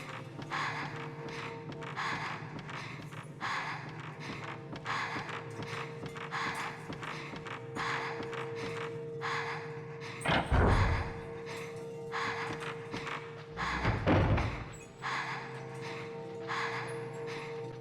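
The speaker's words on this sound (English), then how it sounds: "I guess we're gonna have to listen to this panting for a while because I don't have any more healing." A low-health female character in the Fatal Frame horror game pants in steady, repeated breaths that carry on throughout. Two heavier, deeper bursts of sound break in partway through.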